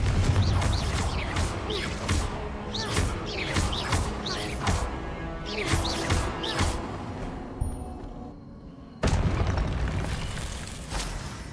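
Repeated booming spell blasts from Confringo in the video game Hogwarts Legacy, several sharp bursts in close rhythmic succession over busy game sound, a brief lull, then another loud impact near the end.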